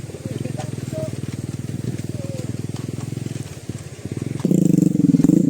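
A small motorcycle, its brakes not working, rides a rough road with a steady rapid engine putter. The engine revs louder near the end.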